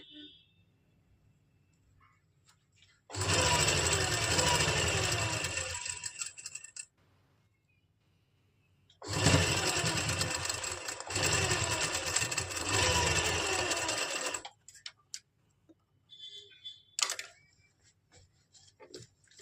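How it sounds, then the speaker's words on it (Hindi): A sewing machine stitches pleats on a kurti in two loud, steady bursts of several seconds each, separated by quiet pauses, with a few small clicks of handling near the end. "और ऐसे हम सिलाई लगा देंगे जो हमारा निशान लगा हुआ है उसके ऊपर"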